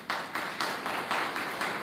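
A gathered audience at a yoga session in Assandh claps together in a steady rhythm, the beats landing about twice a second, fairly faint and even.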